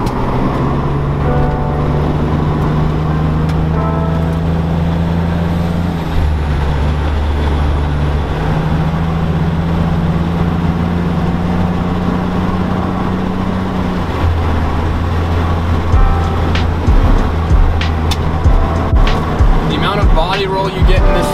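A 1990 Nissan 300ZX with aftermarket parts driving on the road, its engine humming low under steady road noise, with pitch shifts as it changes gear. Someone talks over it throughout.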